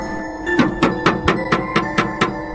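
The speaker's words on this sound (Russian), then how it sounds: "это был звук удара кулака по стеклу." A fist pounds on window glass in a fast series of about eight sharp knocks, loud and close, each thud ringing briefly, with a low hum beneath and no voices.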